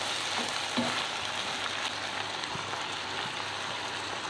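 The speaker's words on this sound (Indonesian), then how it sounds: "terakhir kita masukkan lombok yang tadi dengan bawang bombay, kemudian sayurannya. Nah, ini tinggal diaduk-aduk saja" Beef stir-frying in a pan with chilies, onion and vegetables gives a steady close sizzle, with faint scraping as the mixture is stirred and no speech.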